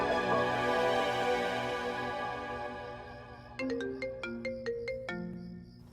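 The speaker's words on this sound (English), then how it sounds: "Your phone is ringing." A phone ringtone plays, first a fading sustained melodic chime, then a bright, repeating sequence of short electronic notes, loud and alone with no talk.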